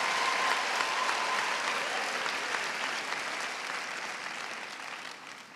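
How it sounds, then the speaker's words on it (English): A large audience at a university welcome ceremony for first-year students applauds in a dense, steady wash of clapping that fills the hall, slowly fading toward the end with no talk over it. "Can we just give ourselves and everybody just a round of applause?"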